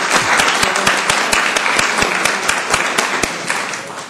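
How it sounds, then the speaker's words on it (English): An audience at a Columbus, Georgia city council meeting applauds school nutrition staff, a dense, steady patter of many hands clapping at close range that stays fairly even for a few seconds. "Let's give them a round of applause for what they do"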